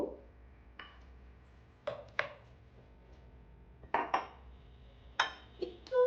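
Chopped eggplant pulp goes into a hot, oiled frying pan amid sharp metallic clinks and clatters of utensils against cookware, a handful of distinct knocks spread irregularly over a few seconds in a quiet kitchen, no voices.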